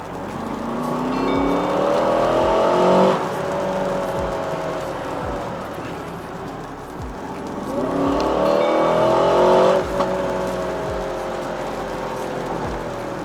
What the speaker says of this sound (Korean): 잠시 스포츠 플러스 모드로 바꾸고 가속 페달을 밟아봤는데